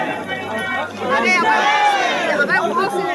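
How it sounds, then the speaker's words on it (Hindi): A dense crowd packed on the stairs of Maihar temple during Chaitra Navratri fills the air with loud, continuous babble as many voices talk close by at once. "देखो कितना भीड़ है, कितना जाम लगा है"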